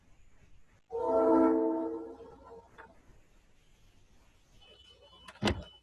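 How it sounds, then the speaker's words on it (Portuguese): A loud, harmonic train horn blasts for about a second at night, then a quieter rumbling and clatter of rails follows, ending with a sharp metallic clank. "Depois da buzina continua um barulho, que é o barulho dos trilhos."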